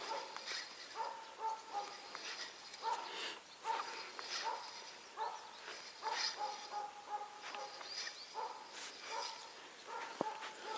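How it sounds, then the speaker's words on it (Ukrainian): A dog barks again and again at a distance near a pike-fishing spot, sharp yips and barks repeating in an irregular rhythm over a quiet outdoor background. "Гавкає не перестає."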